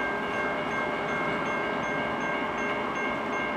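A CN local freight train led by a single locomotive rumbles steadily close by at a crossing, continuous rolling noise layered with sustained tonal ringing that holds throughout.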